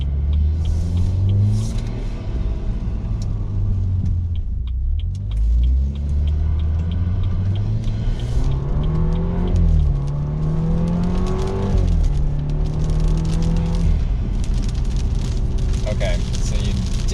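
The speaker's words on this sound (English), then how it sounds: "Okay, so you definitely hear the exhaust a lot more." A BMW 328i fitted with a BMW 335i exhaust accelerates on a city road, heard from inside with the engine rising through several gear pulls, each climbing drone dropping at the shift, under a constant road rumble.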